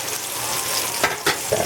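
Osso buco meat searing in a hot pan gives a steady, close sizzle throughout, with a few brief louder bursts of crackle as the meat is moved.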